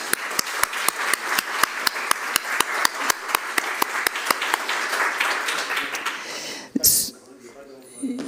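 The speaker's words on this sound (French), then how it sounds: "on l'applaudit, bien sûr" At an arts and sports award ceremony for the Paris 2024 Cultural Olympiad, an audience applauds with steady rhythmic clapping that fades out near the end, as a voice speaks over it.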